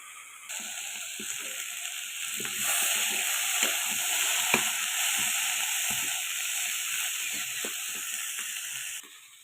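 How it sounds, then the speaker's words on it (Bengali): Potato, kundru, long beans and eggplant frying in oil in a pan, a continuous soft sizzle with occasional scrapes and taps of a stirring spoon, close and even throughout, no one speaking. "আমি আলু ও বরবটি কুঁদরি বেগুন ভেজে দিচ্ছি লাল হয়ে গেলে নামাবো"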